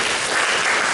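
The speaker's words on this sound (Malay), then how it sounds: "Berikan tepukan kepada syarikat Alkan." Dense, steady applause from a crowd, loud and continuous throughout with no pauses.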